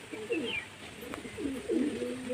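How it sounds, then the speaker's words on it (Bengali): A pigeon coos softly in low, rolling phrases, faint and somewhat distant over a background hiss. "আজকে একটা পায়রা ছেড়ে দিলাম"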